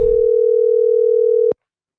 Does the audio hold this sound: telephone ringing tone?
yes